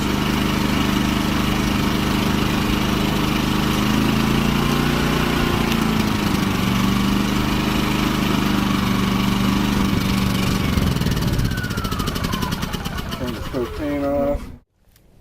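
A Champion 3400 generator's small engine runs steadily and loudly up close, then winds down and cuts off near the end, leaving silence.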